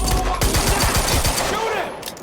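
Gunfire breaks out in the Quantum Break video game, a rapid run of close, loud shots with a brief shouted voice mixed in.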